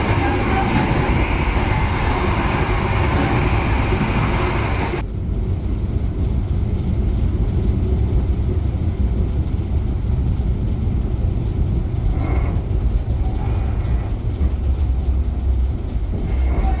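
A Sembrani passenger train rolls out from Pekalongan station, giving a continuous loud interior rumble and rail noise; partway through, the sound abruptly drops to a duller, steadier hum, with faint clicks later on.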